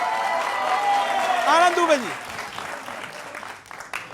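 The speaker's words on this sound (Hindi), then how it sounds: "तालियों के साथ स्वागत करिए भाई" Studio audience applause welcoming a guest on a live TV debate show, a continuous crowd clapping that runs under someone speaking loudly over it.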